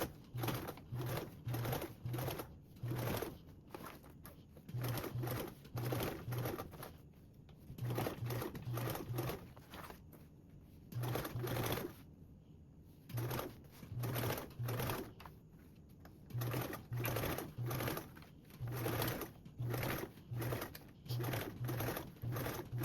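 Sewing machine top stitching the binding on a convertible duffle bag with a narrow 1/8 seam allowance, making repeated close bursts of rapid clattering stitches broken by short pauses, with a faint repeating tone in the background.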